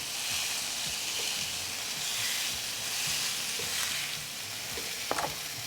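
Steak sizzling on the grill grate of a Ninja Foodi Pro XL, a loud continuous hissing sizzle held steady throughout, with a brief clink near the end.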